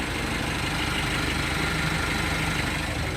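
A noisy Denso air-conditioning compressor fitted as a conversion into an L300 van runs with a steady mechanical drone and engine hum, loud and continuous with no talking.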